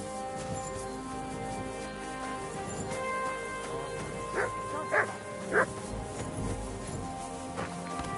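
A dog barks a few times in quick succession, short yips and woofs partway through over a steady background of music or room noise, moderately close.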